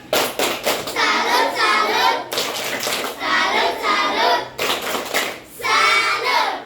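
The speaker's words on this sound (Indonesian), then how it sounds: "1, 2, 3, tepuk salut" Fifth-grade schoolchildren perform a rhythmic group clapping routine in a classroom, repeated patterned bursts of hand claps and slaps with chanted young voices in three loud cycles.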